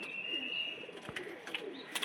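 A large, pure Kanpur-bred pigeon with long, broad racer-like wings, kept by a breeder where it has raised chicks, coos softly and faintly over a quiet, steady background.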